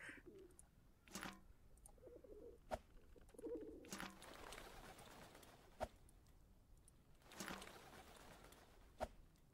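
Pigeons cooing in the video game Whateverland, soft murmuring coos scattered over about ten seconds with a few sharp clicks in between, faint and fairly close, with no talk.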